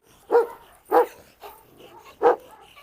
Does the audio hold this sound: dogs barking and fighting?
yes